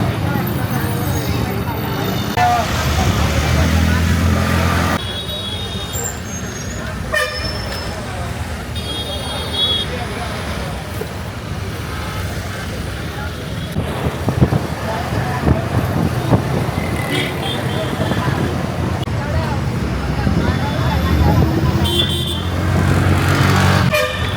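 A bus rumbles through busy Indian road traffic, its engine droning under repeated car and truck horn toots. Voices talk intermittently over the constant roadway noise.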